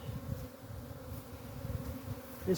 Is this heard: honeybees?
yes